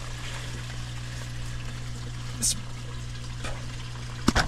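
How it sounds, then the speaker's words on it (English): Dirty water flowing out of a Laguna Pressure-Flo pond filter during backwash: a faint, steady trickle over a low electrical hum, with a brief spoken word and a couple of small splashes near the end. "we just want to make sure it's working and see dirty water coming out"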